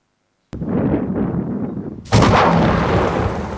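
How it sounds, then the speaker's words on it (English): A small domestic battery energy storage system in thermal runaway erupts with a sudden sharp bang, a roaring rush, then a second louder blast that becomes a sustained violent roar, loud and close, with no talk. "small domestic battery energy storage system going into thermal runaway."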